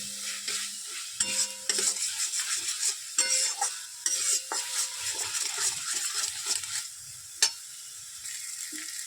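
Masala for katla fish kalia fries and is stirred in a pan, a bright steady sizzle punctuated by repeated spoon scrapes and clinks against the pan, close and clear with no talking.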